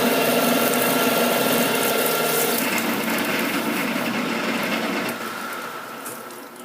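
A metal lathe turns steel for a tailstock chuck mount, taking a cut that makes a loud, continuous mechanical whirring and grinding, close by, easing off slightly near the end.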